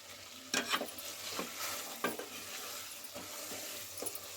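Chicken curry with potatoes and masala being sautéed in a pan. A quiet, low sizzle sits beneath a few distinct spatula scrapes and taps spaced about a second apart.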